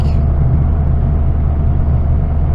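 Cabin drone of a tuned Saab cruising in fifth gear at low revs, a steady, loud low rumble with a smooth, constant engine hum and road noise, no talking.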